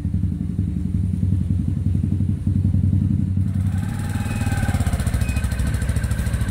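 A GPX Gentleman 200 motorcycle with a cut, shortened exhaust idles loudly and close by, giving a steady rapid thumping burble that grows slightly rougher and brighter partway through.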